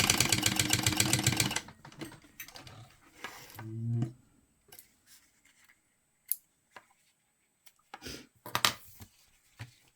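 A sewing machine runs in a fast burst, top stitching beside a zipper, then stops; scattered clicks, taps and handling noises follow in the quiet.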